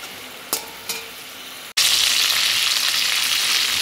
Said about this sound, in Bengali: চিংড়ি মাছটা অল্প ভেজে নেব